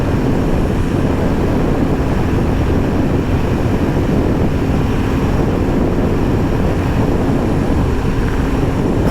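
A Royal Enfield Classic 350 in Halcyon Green cruising steadily at speed, with a continuous low engine drone buried under heavy, constant wind rush against the microphone; no talking.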